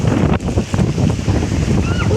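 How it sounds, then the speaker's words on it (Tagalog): Strong wind gusts buffeting the microphone outdoors near a house with a mango tree, a steady loud rumbling roar with brief dips, and a voice faintly audible beneath it. "Uy, ang hangin niya, be."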